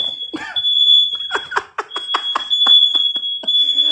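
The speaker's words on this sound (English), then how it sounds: "No, that ain't the timer. That was the alarm." A kitchen smoke alarm set off during cooking, a loud piercing continuous tone running throughout while several people talk and shout over it.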